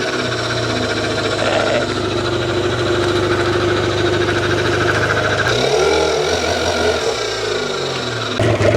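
Outboard boat engine on a restored storage-unit boat, started for its first test, runs as a steady, loud mid-pitched drone throughout, with a rougher, uneven shift in tone toward the end.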